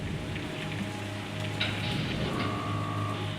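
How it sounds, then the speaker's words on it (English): Steady rain pours down at Cape Canaveral on a May 1961 day, a constant close hiss of drops on surfaces with no talk over it. "Rain's pouring down on Cape Canaveral."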